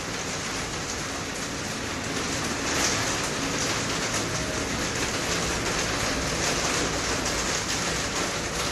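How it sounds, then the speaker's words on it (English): Heavy rain pours outdoors in a dense, steady hiss that fills the whole stretch at an even, loud level, with no voices over it. "it is too much noise here of the rain"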